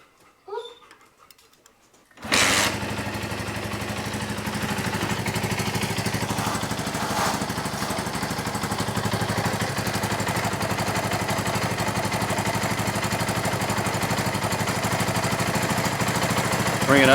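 A small carbureted engine fitted with a cheap carburetor that causes a high idle: a couple of seconds of near silence, then it catches abruptly and settles into a loud, steady running drone close by.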